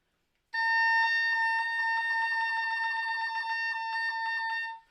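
An oboe plays a timbral trill meant to evoke a bird call at a double reed camp faculty recital: one steady, bright sustained pitch that flutters rapidly in tone color, close and clear, alone for about four seconds.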